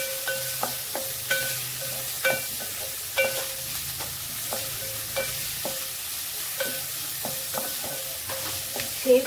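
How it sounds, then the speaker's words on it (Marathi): Onion frying in a pan for sev onion curry, a steady close sizzle punctuated by regular clinking stirs of a utensil against the pan. "कांदा चांगला परतून घेऊया।"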